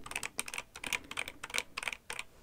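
Steady, brisk computer keyboard typing, close up, with quick clicky keystrokes in uneven bursts and short pauses.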